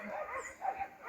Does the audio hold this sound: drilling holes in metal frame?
no